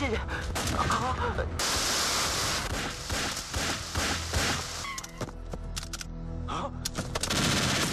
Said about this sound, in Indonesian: Kemudian ia menembaki semua petugas.